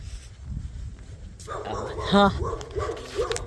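A puppy gives a single sharp, close bark with a faint yip, rising out of quiet background noise, and a person's voice is heard briefly afterward.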